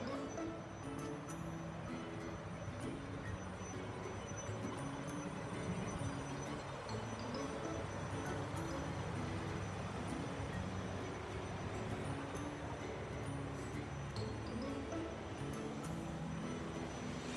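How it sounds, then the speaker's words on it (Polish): Koleje Śląskie passenger train pulling into a station, a steady broad rumble of wheels and carriages rolling in at close range with faint high squeals, no talk. "idziemy już na skład kolei śląskich, który się podstawia"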